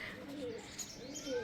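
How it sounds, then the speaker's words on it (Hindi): A pigeon coos softly in a village setting, a few faint, low, rounded calls against quiet background ambience with light chirps. "क्या कोई स्पॉट कर पा रहा है कबूतर को?"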